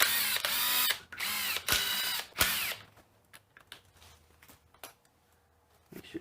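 A 10mm socket on a powered driver whirs off Toyota axle hub bolts in three loud bursts, followed by quieter scattered clicks and metallic clatter of parts being handled.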